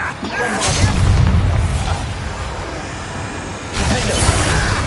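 An Incendio fire spell in Hogwarts Legacy goes off as a loud, booming fiery blast. A second rushing burst follows near the end.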